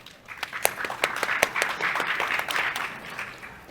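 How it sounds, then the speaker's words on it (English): Conference audience applauding at a panel discussion on city finances, sharp individual claps building into a fuller, moderately loud round that carries on steadily. "Let us applaud Ntate Ben."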